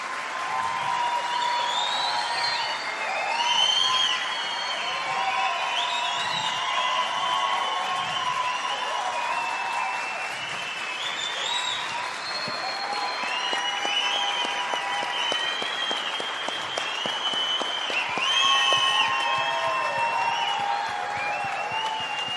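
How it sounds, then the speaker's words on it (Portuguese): An audience applauds at length for Flávio at the final session of a live event: a dense, continuous wash of clapping from a full crowd holds steady throughout, with a few voices and cheers rising briefly above it. "pedir de todo o coração uma salva de palmas para o Flávio"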